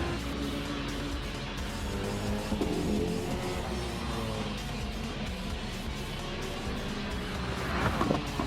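Mitsubishi Lancer Evolution racing in Gran Turismo 7, a steady loud engine drone with harmonic whine, rising pitch and tire noise near the end, continuous with no talk.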